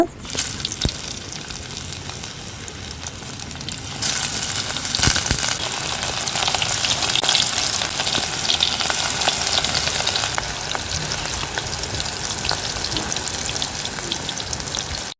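Chapli kebab made from sacrificial meat fries in hot oil, a dense, continuous sizzle that jumps louder partway through and then holds steady to the end.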